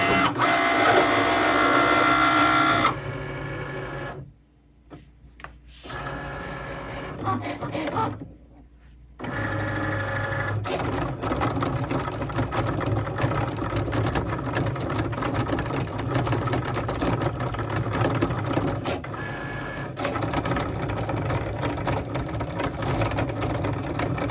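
A Cricut cutting machine runs steadily at close range while cutting a design for custom wine glasses, giving a continuous mechanical whir with two short pauses near the start before the motor resumes without talk.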